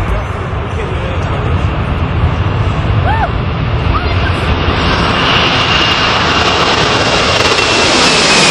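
A large airliner roars steadily and loudly close by, its engine noise rising and brightening toward the end, with a few faint voices underneath.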